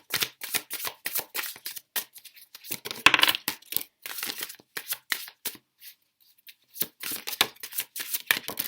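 Tarot cards are shuffled by hand close up, giving a brisk series of papery riffles and slaps in irregular bursts, with a short pause near the end and no talking.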